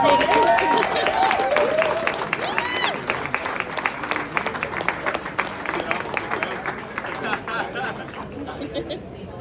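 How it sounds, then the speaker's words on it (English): An audience applauds after a live art performance, with dense clapping that starts strong and gradually thins, while chatter and voices mix in underneath. "Guys, can we get a big round of applause?"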